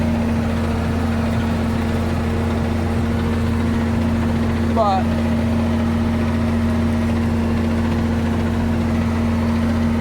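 A Ford 9700 tractor engine idles on a horse farm during manure spreading, a steady, loud, even drone that holds throughout, with one brief spoken word partway through.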